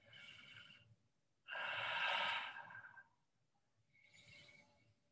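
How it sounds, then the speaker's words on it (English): Slow, deep breaths in a classroom calming exercise: a soft inhale, a longer louder exhale, then another gentle breath, close and quiet with no talking. "I might close my eyes and just count to three, or leave my eyes open and take some deep breaths."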